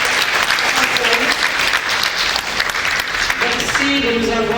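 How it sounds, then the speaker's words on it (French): Audience applause at a French public event during a speaker introduction, a dense steady patter of clapping filling the space with some voices and murmurs mixed in. "sous vos applaudissements"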